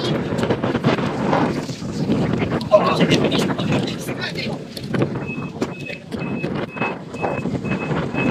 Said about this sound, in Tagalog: dahil sa lakas ng hangin, hindi niyo maintindihan yung sinasabi namin kanina